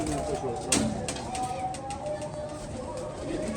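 Pigeons coo softly in a loft kept by a Pakistani racing-pigeon fancier, low murmuring calls under someone talking nearby, with a brief flutter or rustle of wings.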